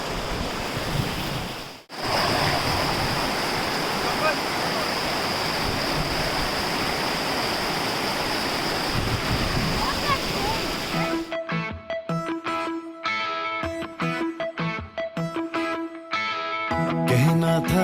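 Water is splashed in a rushing mountain stream, a loud broadband roar with a short break near the start; after about eleven seconds, music takes over and the water fades out.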